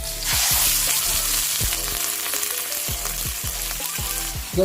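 Chicken and onions sizzle loudly in a pan, following garlic, while cooking chicken adobo with saba banana and string beans, with steady frying crackle and repeated low knocks from stirring.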